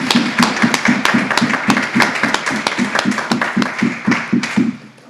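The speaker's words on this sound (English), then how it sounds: "Let's give you a round of applause." A small audience claps together at a parent education session, steady rhythmic claps from a modest group, close and clear, fading out at the end.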